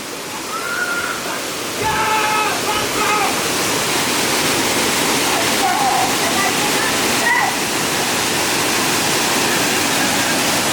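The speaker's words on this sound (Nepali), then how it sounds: "झर्ना चाहिँ यही हो" Nagarkot waterfall near Kathmandu roars as a loud, dense, continuous rush of falling water, with people talking briefly over it near the start.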